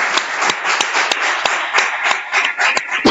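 An audience claps steadily for a speaker after a videoconference lecture on NATO and the war in Ukraine, with a dense wash of applause and a few sharper individual claps standing out.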